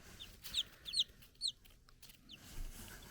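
Newly hatched chicks in an incubator box, a few high, bright peeps spaced through the moment over quiet room noise.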